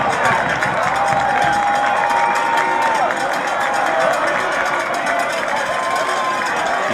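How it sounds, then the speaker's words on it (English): A stadium crowd at a PSAC college football game between Edinboro and Seton Hill roars steadily throughout, with a dense, continuous wash of cheering and thin whistle-like tones riding on top. "And the fans still cheering for that."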